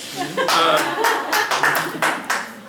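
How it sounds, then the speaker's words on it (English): Mourners at a memorial gathering clap in a few scattered, distinct bursts, a thin and uneven applause rather than a full ovation. "I'm glad you're all applauding."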